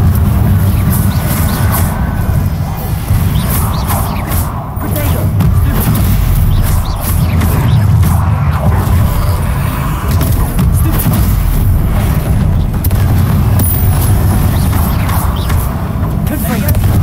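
A Confringo fire spell explodes in Hogwarts Legacy amid a loud, dense wash of booming blasts and rumbling game effects that fill the whole stretch, with a voice briefly audible.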